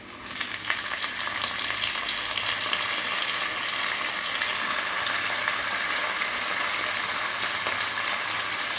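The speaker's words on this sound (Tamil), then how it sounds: "இப்போது வெங்காயம் நல்லா வதங்கிடுச்சு. இதில் சிக்கனை போடலாம்." Chicken hitting hot oil with well-sautéed onions in a pan for a country chicken curry, a steady loud sizzle and crackle that holds evenly throughout with no talking.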